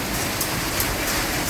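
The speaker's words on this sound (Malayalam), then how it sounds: "ശക്തമായ മഴ." Heavy rain pouring in Abha, Saudi Arabia, a dense, even rush of water with faint spattering of drops hitting a surface nearby, steady throughout and without talk.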